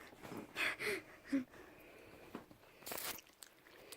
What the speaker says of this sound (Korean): 저희 씹어 먹겠습니다